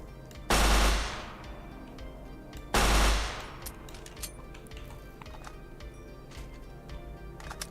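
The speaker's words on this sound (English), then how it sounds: "Obviously the RPM on this thing is different from what I'm used to, so it's probably shooting a lot more rounds per second." Two long, loud bursts of rapid gunfire from a gun in the Minecraft nuclear tech mod, each lasting about a second, with dense fast rounds fading into quieter game noise between and after.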